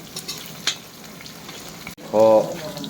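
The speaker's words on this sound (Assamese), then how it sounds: "পিঁয়াজ জলকীয়া আদা ৰচুন তেজপাত পূৰা ভাজি লৈছোঁ মই মাংস বনাবৰ কাৰণে" Onion, chili, ginger, garlic and bay leaf frying in oil as a base for goat meat, a soft sizzle with stirring clicks that swells into a louder, denser hiss near the end.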